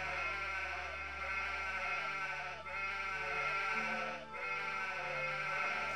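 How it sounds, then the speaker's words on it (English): Loud, close sheep bleating from the video game Anno 1503, a steady chorus of overlapping wavering bleats that fills the whole stretch, with two brief dips where it nearly pauses. "the sheep are loud as hell"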